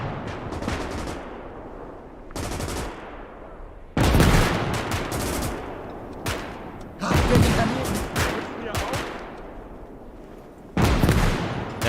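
German MG machine gun fire in the WWII game Gates of Hell, heard as loud, ragged bursts of rapid shots that stop and start, some close and some farther off, with scattered rifle fire between them and no talking.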